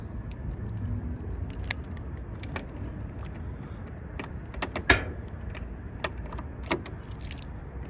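Keys jangle in bursts around a 1964 Buick Wildcat convertible, with light metallic clinks scattered over a low background hum, loudest in a brief clatter midway.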